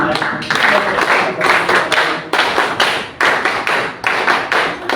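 A hall audience claps in loud, sustained applause with a dense, even texture of many hands, swelling in repeated waves.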